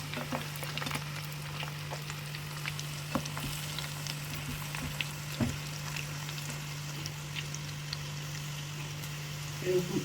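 Steady sizzling and crackling of onion pakoda frying in hot oil, with a constant hum underneath and occasional faint pops.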